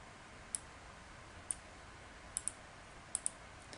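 A computer mouse gives a handful of sharp, faint clicks, some single and some in quick pairs, close and quiet over a near-silent room.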